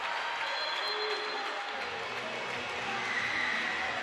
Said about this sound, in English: An excited crowd.